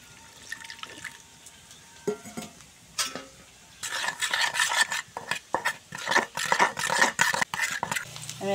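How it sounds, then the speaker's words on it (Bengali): A spoon stirring chili, cumin and turmeric powders with water in a small bowl, irregular wet scraping and clinking strokes that grow busier and louder partway through, with no speech. "আমি এখানে লঙ্কা গুঁড়া, জিরা গুঁড়া, হলুদ গুঁড়া একসঙ্গে জল দিয়ে গুলে নেব।"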